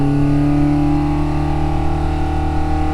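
A V8 Husky engine fitted with an R17 cam runs wide open on an engine dyno, giving a loud, sustained, close-up roar that holds a steady pitch throughout.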